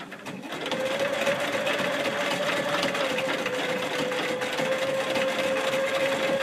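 A sewing machine stitches appliqué pieces with matching light yellow-green thread, giving a steady, close whirring hum with a constant pitch that runs evenly for about six seconds.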